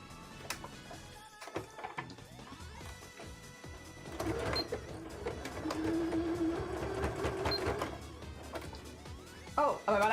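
An embroidery machine stitches with a rapid mechanical whir and clatter that swells after a few quiet seconds and runs steadily, with a few thunks at the start and end.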